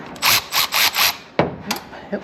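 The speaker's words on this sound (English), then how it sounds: "I'm not going to over tighten them with the rattle gun here" An impact wrench snugs up wheel nuts in four quick rattling bursts, followed by a sharp knock and a few softer clunks, close and fairly loud.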